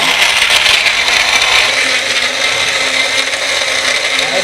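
A NutriBullet blender blitzes a drink with ice, a loud steady high-pitched whir with gritty rattling that runs continuously without talk.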